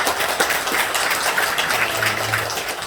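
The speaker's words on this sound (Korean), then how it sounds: "박수 한번 칩시다." A church congregation at a 120th anniversary and ordination service claps together, a steady, close, rain-like patter of many hands that fills the short stretch without talk over it.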